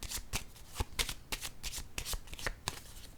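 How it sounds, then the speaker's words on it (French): Playing cards shuffled and laid down on a table in a tarot-style reading, a close series of crisp riffling flicks and sharp snaps at an uneven rhythm. "Je vais déposer une carte sur ces deux-là."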